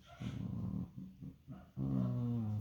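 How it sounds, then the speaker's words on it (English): Dogs growling and barking nearby in a series of short irregular bursts, then a sustained louder growl or whine at the end, heard without any talk. "There's the dogs barking"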